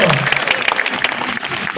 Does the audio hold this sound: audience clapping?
yes